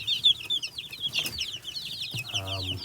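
Mixed flock of young chickens, a few weeks apart in age, clucking and peeping in a backyard coop; faint chirps and short clucks repeat throughout, with a low buzzing cluck near the end and quiet talk in the background.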